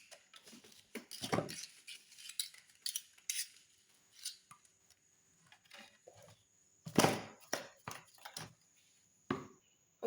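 A spoon creams vanilla cake batter in a mixing bowl, giving irregular scraping clinks and taps against the bowl, with bursts of louder strokes between quiet pauses.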